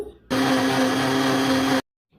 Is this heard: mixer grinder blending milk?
yes